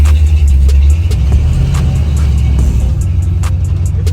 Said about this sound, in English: Alright, gang, we just testing this truck out.